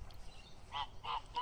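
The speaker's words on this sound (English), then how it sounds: "birds are beautiful, man" Geese honking at Lake Guyatt: three short, faint, distant honks spaced about a third of a second apart, with no voices.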